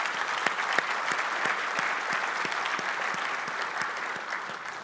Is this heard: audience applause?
yes